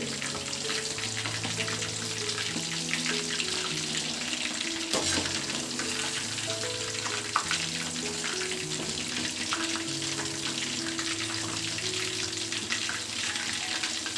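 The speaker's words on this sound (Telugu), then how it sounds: "ఇలా తిప్పుకుంటూ ఒక ఏడు ఎనిమిది నిమిషాల పాటు ఫ్రై చేసుకోవాలి" Steady close sizzle of curry leaves chicken kabab frying in a pan, a continuous loud hiss throughout with faint stirring sounds and a brief louder clink midway.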